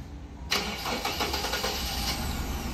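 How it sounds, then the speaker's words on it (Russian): A 2018 Kia Rio engine starts with difficulty: after a quiet moment the starter cranks with a burst of rhythmic chugging, then the engine catches into a rough, uneven idle, heard close and without talk. "Машина завелась, но плохо заводится."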